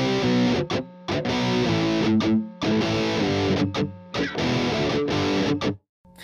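Distorted electric guitar chugs through the second half of a song's riff, heavy power chords in loud choppy phrases separated by short silences, played alone with no voice.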